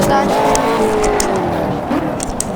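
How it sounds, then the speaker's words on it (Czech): A race car engine roars loudly in the video game Project CARS, its pitch sweeping down and back up through a gear change, with faint tire noise. "Můžete se zaposlouchat do lahodných tónů motoru, to je pro motoristy."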